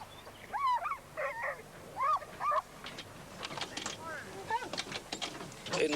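Hunting hounds from beagle and fox hunts give short yelps, whimpers and barks in scattered bursts, fairly faint and mixed with voices in the background.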